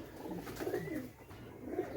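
A pigeon coos softly at a pigeon loft, a few low, rounded, warbling calls close by but quiet.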